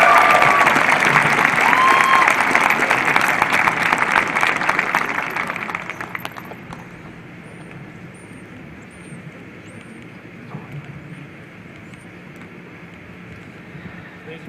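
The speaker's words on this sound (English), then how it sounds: "Let's give her one more round of applause." Audience applause for a scholarship recipient at a senior awards night, a loud, dense crowd of clapping that fades out after about six seconds, leaving a quiet room with scattered small sounds.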